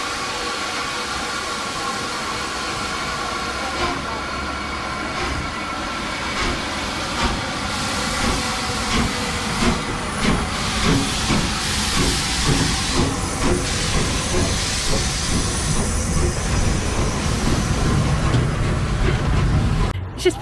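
Old steam train pulling out of a station in the English countryside, a loud continuous hiss of steam over rumbling, clanking rail noise that builds steadily, with faint voices in the background.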